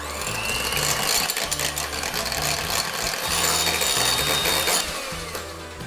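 Two egg whites being beaten in a bowl toward soft peaks for meringue, a steady loud mechanical whir of a mixer running continuously with a rattling, ratchety texture throughout.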